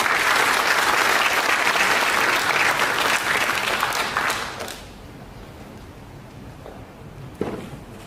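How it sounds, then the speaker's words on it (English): Audience applause for a work group fills a room at an industry safety forum: dense, loud clapping for about four seconds, then it dies away into quiet room tone with one stray sound later. "give the present and the former work group a round of applause for the help"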